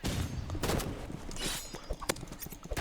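Gunfire in a Rivals shooter video game comes as rapid, sharp cracks and bursts at close range, fairly loud and uneven in rhythm.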